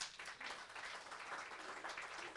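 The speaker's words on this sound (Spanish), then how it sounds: "le da un aplauso al Señor" Applause from a church congregation answering a preacher's call to praise the Lord, heard as a faint, steady wash of clapping with no voices over it for a couple of seconds.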